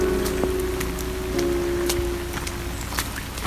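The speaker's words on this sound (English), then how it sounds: "we're getting much more rain, I understand" Steady rain patters on a surface, with scattered individual drops ticking louder against a constant low hum in the background.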